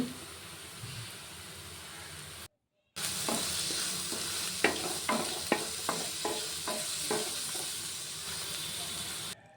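Ginger-garlic paste with turmeric fries in a pan for bhindi masala gravy, a steady broad sizzle broken by a brief silent gap, then sharp spoon-scrape clicks and stirring knocks over the continuous hiss, with no one talking.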